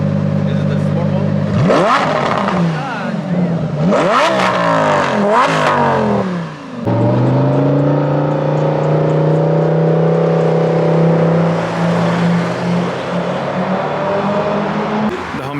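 A V10 car with a Corsa exhaust revs hard, several rising and falling blips followed by a sustained loud drone, close and dominant, with voices talking over it.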